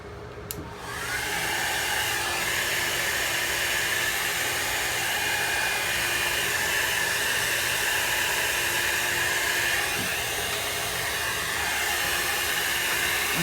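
A hair dryer blows with a steady, loud whooshing roar, close by and continuous, after a brief quiet start, with occasional thumps as it knocks the microphone.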